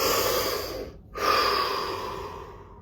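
A slow, deep breath during a guided relaxation session: a long airy inhale, a brief pause, then a steady, softer exhale, close and unvoiced.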